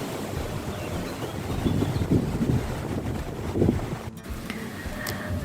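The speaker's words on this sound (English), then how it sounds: "It's so windy outside." Wind gusting outside near the Burgruine Falkenstein castle ruin in Austria, buffeting the microphone in uneven rumbling surges, with a brief click near the end.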